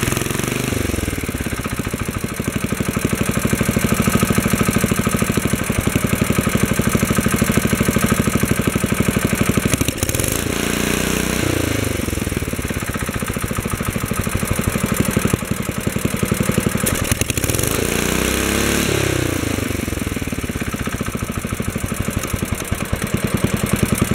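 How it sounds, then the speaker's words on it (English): A Wheel Horse 704 garden tractor engine runs at full throttle close by, a loud steady roar that surges and dips periodically as the governor pulls the speed back down. "When I yank the throttle out all the way, it gains speed until the governor slows it back down."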